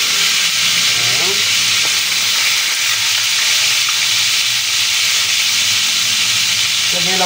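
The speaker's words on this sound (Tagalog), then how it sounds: "Basta ang importante po ay maprito po natin yung chicken." Chicken frying in a pan of oil, a loud, steady, close sizzle and hiss filling the whole stretch with faint clinks of stirring underneath.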